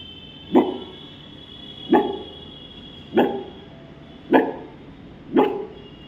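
Someone mimics a timid street dog with five short, restrained barks spaced evenly about a second apart, moderately loud and close.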